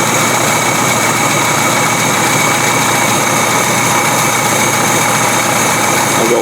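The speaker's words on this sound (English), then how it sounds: "You just want to listen to the engine carefully." An engine idles steadily during carburetor adjustment, a dense continuous rumble with a faint mechanical whine, close and loud throughout, no voices.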